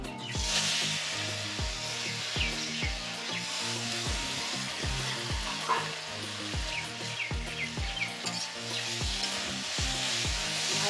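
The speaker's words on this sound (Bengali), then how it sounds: "আমগুলোকে এবার ছেড়ে দেবো তেলের মধ্যে।" Mango pieces mixed with turmeric powder, dropped into hot oil for a sweet-sour-spicy pickle, sizzling and frying steadily with a broad hiss, over a regular rhythmic beat of background music.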